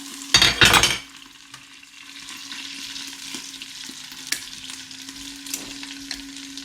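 Pork belly fries in a pan as its fat renders, opening with a loud burst of stirring and scraping before easing into a steady, gentle sizzle with an occasional faint clink. Nobody speaks.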